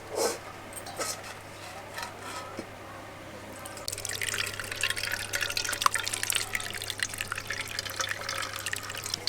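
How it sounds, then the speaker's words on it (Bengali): Watermelon pulp is strained through a sieve for homemade ice cream, and juice patters down in a dense, steady stream of drips after a few soft handling sounds, close and moderately quiet. "এই ছাকনাতে তরমুজ ছাঁকলে এর থেকে রসটা খুব ভালোভাবে বেরোয়।"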